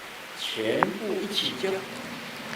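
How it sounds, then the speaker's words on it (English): Crows calling in a forest during a Dharma transmission ceremony: a few drawn-out, moderately loud cries rise and fall over about two seconds, with no talk over them. "The sound of the crows."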